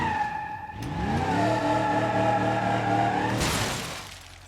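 A car in the video game BeamNG.drive revs up and accelerates with a steady rising engine drone, then ends in a sudden crash burst with a crunching impact near the end.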